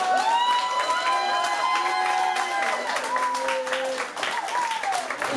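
A crowd at a Normandy furmeet gathering claps and cheers, with sustained applause, whoops and raised voices filling several seconds.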